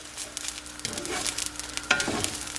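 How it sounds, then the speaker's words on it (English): Turkey soup ingredients for sopa de pavo con fideo sizzle in a pot while being stirred constantly, a steady close crackling hiss broken by scraping and clinking of the spoon against the pot. "I'm just constantly stirring it so that it doesn't, you know, I don't burn it in any particular area."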